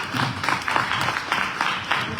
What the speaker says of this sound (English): Clap it up if you feel me on that.